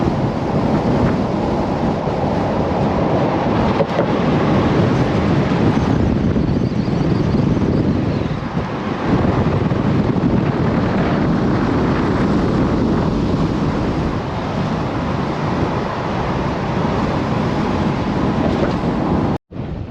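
Strong wind at Little Egypt, Utah, roars across the microphone in a loud, unbroken rush of buffeting noise that barely lets up for the whole stretch, with no voices.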